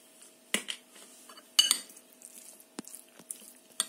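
Crab stick salad being mixed with mayonnaise in a bowl, a few sharp clinks and scrapes of a spoon against the bowl at irregular intervals, close and fairly quiet, with no talking.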